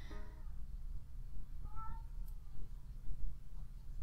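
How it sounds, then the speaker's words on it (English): A cat yowls indoors from upstairs, several drawn-out, wavering cries spaced across a few seconds, fairly faint and distant over a low room hum. "there's a cat yowling upstairs"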